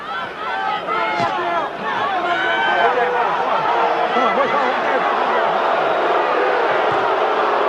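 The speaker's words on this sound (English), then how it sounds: "Crowd booing Cortez's actions." A large arena crowd at a heavyweight boxing match between Riddick Bowe and Evander Holyfield roars and boos loudly and continuously, with a commentator's voice running over the din.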